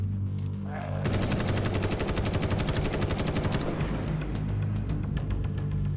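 Automatic gunfire with recoil in The Day Before video game, a rapid sustained burst of loud rhythmic shots lasting a few seconds, then a few scattered single shots over a lingering low rumble.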